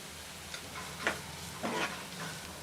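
Vegetables for a restaurant-style veg Manchurian fry in a pan with a soft, steady sizzle, broken by a few brief scraping stirs, quiet and close.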